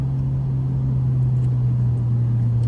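An Alfa Romeo Giulia in full race mode holds a steady, deep engine hum under a light touch of throttle, close and continuous, with no sharp rise in revs.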